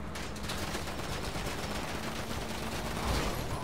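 Sustained gunfire aimed at a vehicle's driver during a highway heist mission in a video game, dense bursts of shots running continuously, loud and close throughout.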